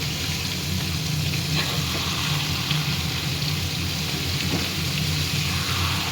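Eggplant paste frying in a pan, a continuous even crackling sizzle heard close and at a steady level, with faint scrapes now and then.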